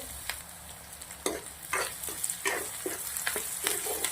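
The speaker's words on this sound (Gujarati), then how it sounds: "ડુંગળી થોડી વાર આપણે 2 મિનિટ ચડવા દેશું તેલના અંદર" Steady frying sizzle of onions in oil, with repeated scraping and stirring strokes of a utensil in a pan, close and fairly loud, no talking.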